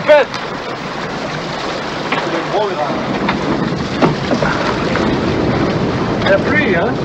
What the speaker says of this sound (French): La pluie, hein? C'est la tempête!